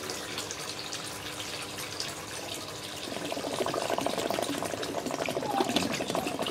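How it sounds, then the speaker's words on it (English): Water gurgling and splashing as an aquaponics tank drains, starting soft and turning into louder, busier bubbling partway through, close by with no voices. "Gurgles for a little bit, and then the water flow stops."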